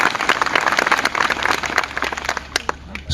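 A crowd at a large farmers' rally in Gujarat breaks into applause, a dense crackle of many hands clapping with scattered louder claps standing out over the crowd noise.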